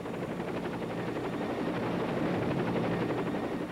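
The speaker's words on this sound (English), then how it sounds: "another enemy of the foot soldier has taken to the skies, the attack helicopter" A military attack helicopter flies close and loud, its steady rotor chop and turbine roar holding unbroken with no talk over it.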